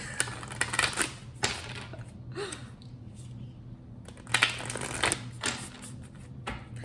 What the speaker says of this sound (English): I shuffled and none of the cards wanted to shuffle.